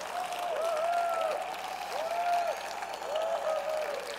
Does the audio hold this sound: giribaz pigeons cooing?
no